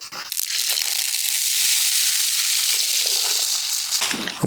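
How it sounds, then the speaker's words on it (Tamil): Steady broadband hiss and bubbling from a pot of boiling water, loud and close, continuing evenly for a few seconds with no talking. "இப்போ பார்த்தீங்கன்னா தண்ணி கொதிக்க ஆரம்பிச்சிச்சு"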